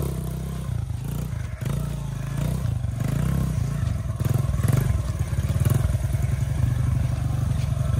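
A dirt bike on a trail, its engine rising from a low idle to a loud, rough revving drone with clattering and scraping, growing stronger toward the end.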